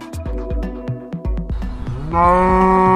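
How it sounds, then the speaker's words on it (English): A cow moos loudly after a few sharp knocking sounds, the low drawn-out call rising in strength and holding steady to the end. "Cow."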